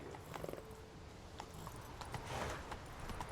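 Roach, the horse in The Witcher 3, her hooves clopping in an uneven trot, moderately close, over a busy background of game sounds.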